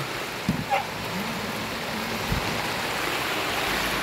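Steady rain drums on a plastic tarp and is collected as rainwater, a dense even hiss running the whole time with a couple of soft knocks near the start.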